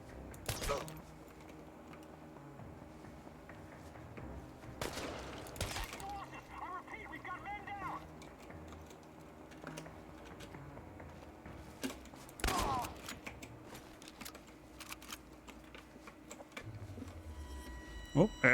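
Gunfire in the game Chernobylite: a few sharp, isolated shots spaced several seconds apart, with quieter mechanical clicks and clatter in between over a low background.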